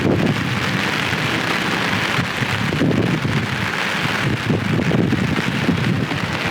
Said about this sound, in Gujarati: ફૂલ વરસાદ ચાલુ થઈ ગયો છે.